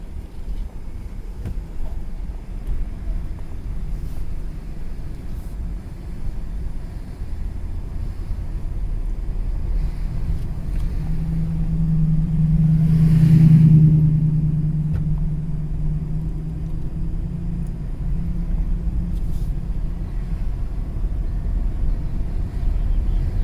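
Steady low engine rumble and road noise from a car driving slowly through the old hillside mining town of Jerome, Arizona, with a slight swell midway and no talk.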